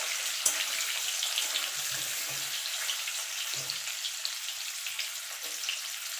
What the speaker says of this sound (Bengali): এবার আলুগুলোকে লাল লাল করে ভেজে নেব।